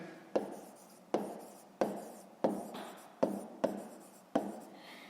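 Pen or chalk writing strokes for a fifth-grade maths exercise land in a regular series of about seven sharp taps with short scratchy tails, close and fairly quiet.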